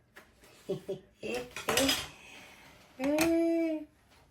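Metal spoons clink against dishes in a few sharp bursts at a table set with traditional foods, a sustained ringing tone near the end, with a voice speaking softly in between.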